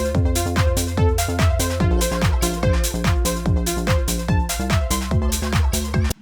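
Serum synth lead arpeggio using the Green Wide preset, notes shifted up an octave, playing a steady repeating pattern of bright plucked tones with gliding bass notes underneath, loud and alone.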